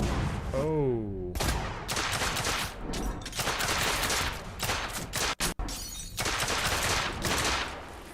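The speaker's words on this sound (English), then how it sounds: "I just used my pistol there" Pistol shots in the video game The Order: 1886 crack out in loud, dense, rapid bursts, nearly continuous with a few brief gaps, close and forceful with no talking over them.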